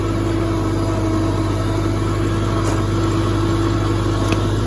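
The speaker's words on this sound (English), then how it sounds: "But it's a strong little 10 horsepower. I think that's about what these are." A small 1971 Cub tractor with a 10-horsepower engine runs at a steady idle nearby, producing a constant low drone and hum with no changes in speed and no talking.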